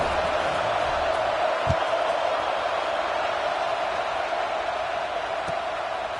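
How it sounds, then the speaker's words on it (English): Steady murmur of a football stadium crowd in a video game broadcast, a Tennessee versus Ole Miss matchup heading to overtime, forming a constant subdued roar with no cheering bursts. "boy, did that last drive quiet this crowd"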